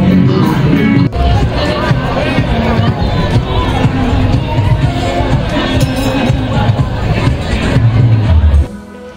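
A dense crowd murmurs at a riverside fair, loud and steady throughout, with overlapping voices and babble filling the scene until it drops away near the end.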